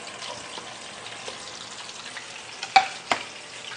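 Garlic sautéing in oil for a Chinese-style soy chicken dish, giving a soft steady sizzle with a few sharper clinks of a utensil near the end, no talking.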